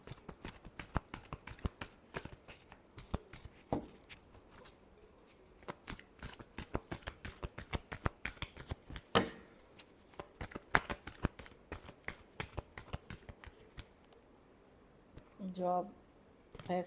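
Tarot cards being shuffled by hand, a quick run of crisp riffling flicks repeating steadily and up close, with a brief louder flutter near the end.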